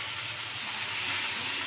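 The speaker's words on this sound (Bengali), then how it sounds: "এবার আমি এতে একটু জল দিয়ে দিচ্ছি" Water poured into hot fried spice paste for an eggplant and amudi fish curry, giving a steady, close, loud hiss of steam and sizzling with no talk.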